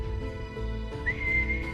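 A person whistles one sustained, slightly rising tone that starts partway through and holds steady to the end, near and clear over a soft low background hum.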